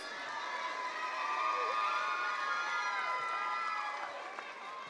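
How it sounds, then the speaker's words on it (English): Graduation ceremony audience roaring and cheering for rising graduates, with high whoops and shouts over a sustained crowd noise at middle distance. "Let's give these graduates a round of applause."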